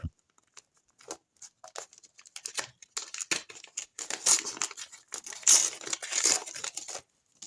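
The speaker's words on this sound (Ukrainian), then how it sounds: "відкриваємо цей пакетик" Crinkly plastic rustling and tearing of a small plastic packet being opened, in quick, irregular bursts, growing louder and denser toward the end, close to the microphone with no talking.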